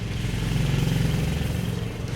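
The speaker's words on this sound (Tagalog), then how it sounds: "Kapag pinaandar na ang makina ng motoped" A Cobra pedal moped's small engine runs steadily and fairly loud, a continuous low mechanical drone with slight clattering and no voices over it.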